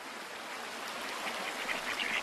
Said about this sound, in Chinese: 每天落潮后，鸭子们便浩浩荡荡涌向红树林旁的滩涂。